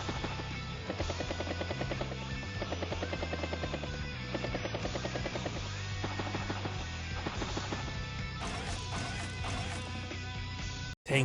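Command copter helicopter in the video game Advance Wars: Days of Ruin, a steady whirring rotor drone mixed with game music and bursty effects, held continuously at a moderate level with a sharp dropout just before the end.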